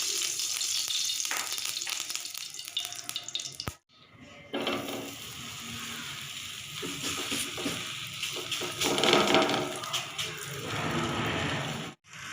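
A paratha frying in ghee on a hot pan gives a steady close sizzle that drops out briefly twice, with occasional scraping and shifting sounds and no talking.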